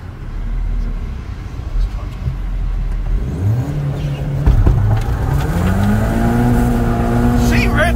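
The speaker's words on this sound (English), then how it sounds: "Burning old bearish tyres." A car spins its wheels on old worn tyres, engine revving hard with rising and falling whine and tyre roar, loud and close.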